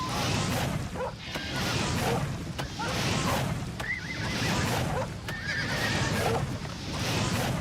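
A horse whinnies repeatedly in the video game The Elder Scrolls IV: Oblivion Remastered, loud and close over a dense rumbling game soundscape with scuffling hits.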